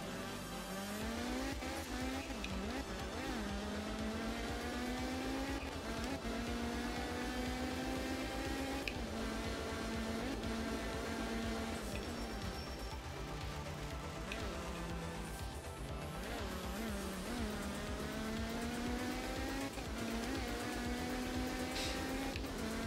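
A Group S rally car's engine drones and revs steadily in the Art of Rally video game, rising and falling through gear changes with occasional tire squeal, loud and continuous with no talking.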